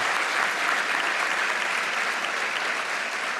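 A large banquet audience at the White House Correspondents' dinner breaks into dense, even applause, a loud continuous wash of clapping with no pauses.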